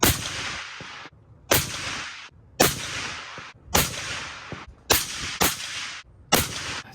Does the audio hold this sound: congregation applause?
no